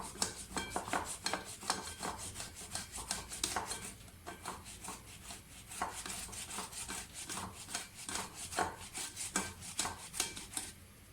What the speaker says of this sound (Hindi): सबसे पहले आलू जो हैं वो कद्दूकस कर लें।